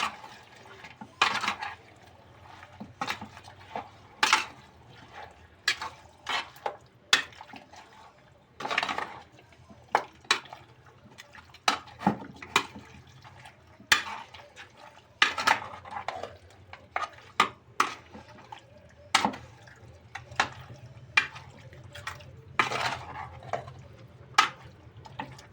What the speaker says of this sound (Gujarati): હવે આપણે આને હલાવી અને ચડવા જ દેવાની છે.